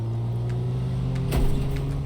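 A car driving in the life-sim video game Big Ambitions gives a steady, low engine hum, with a brief louder thump or rumble about two-thirds of the way through and no talking.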